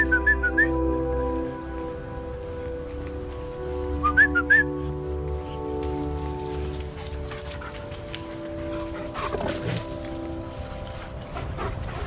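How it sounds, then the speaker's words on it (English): Short rising whistles from a person, in two brief bursts near the start and middle, heard over a steady low engine-like drone and rain-like patter outdoors. "When you hear me whistling like that"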